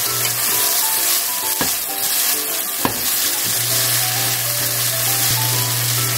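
Mushrooms frying in a pan, a loud close sizzle with utensil clacks and scrapes as they are stirred, the hiss running steadily throughout without speech.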